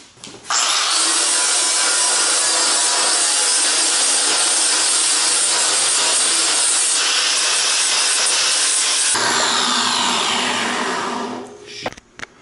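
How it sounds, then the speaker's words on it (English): A flap disc on a grinder works a stainless steel shop-sink drain board with a loud, continuous abrasive roar lasting about eleven seconds, shifting pitch briefly near the end before winding down. "Took some of the nastiness off there with our flap disc"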